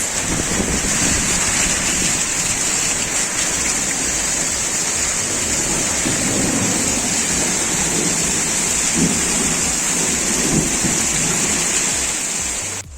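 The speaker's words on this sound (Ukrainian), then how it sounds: "Це не дощик, це, це злива." Heavy rain pours in a constant dense hiss with low thunder rumbling beneath it, steady and loud throughout.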